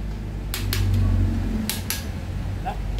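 A ball race bearing on an NMAX scooter is gently tapped in with a hammer, giving four or five sharp metallic knocks in two quick pairs, close and clear over a low background hum.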